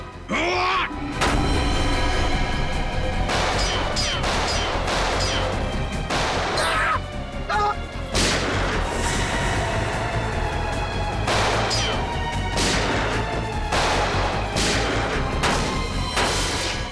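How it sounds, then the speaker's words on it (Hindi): Gunfire in an episode of the Indian crime drama CID, repeated loud sharp shots and bursts recurring through a continuous busy action soundtrack, with little clear talk. "मुझे भी गोली चलानी है"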